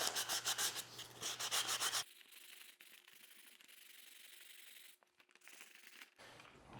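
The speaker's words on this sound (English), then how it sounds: "Sand these up a little bit so that they look good against the" Sanding the edges of cut mosaic tile for a shower surround: about two seconds of close, loud rapid rubbing strokes, followed by quieter steady abrasive scraping.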